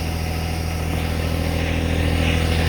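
A tractor engine running steadily up close while its 3-point hitch is worked, a constant loud mechanical drone with no talk.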